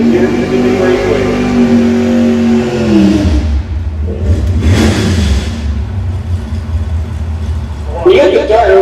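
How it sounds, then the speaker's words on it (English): A Chevrolet Camaro race car engine at Pacific Raceways, rolling into the ready line: a loud engine note revs and falls off, rumbles low for a few seconds, then revs again at the end, with a voice talking over it. "My old pal Larry DeCamp rolls in the ready line his ever-present and award-winning Camaro."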